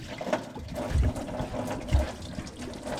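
Coolant from a 2007-2014 Silverado/Sierra engine splashes and gurgles into a catch pan in uneven bursts, with a couple of heavier glugs standing out over the steady trickle.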